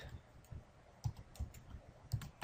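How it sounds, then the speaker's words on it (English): Keys clatter on a computer keyboard while a form is being entered, short clicks coming in irregular small bursts, close and fairly quiet with no voice over them. "I will type here male"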